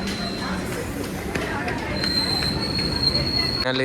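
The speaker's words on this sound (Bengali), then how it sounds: "এখন অপেক্ষা করার পর আমাদের ট্রেন অলরেডি আসছে, দেখতে পাচ্ছ।" A suburban train pulls into a station on the line to Ballygunge, its wheels rumbling and squealing in a long shrill tone that grows louder near the end, while a voice talks over it.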